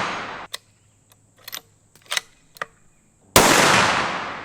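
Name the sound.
gunshot from a 7.62 Howa rifle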